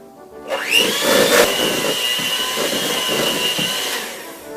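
A mixer whirs up and runs steadily through cream cheese cheesecake batter, a loud continuous motor whine with slight changes in load as the batter thickens, no talk.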